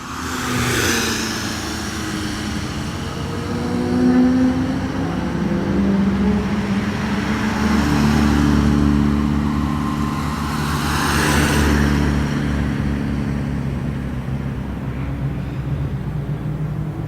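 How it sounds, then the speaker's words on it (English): Classic rally cars race past at Oulton Park circuit, their engines loud and revving as they approach, sweep by and fade, with two clear passes and a steady engine roar in between. "what great fun it is to see these classic rally cars sliding about"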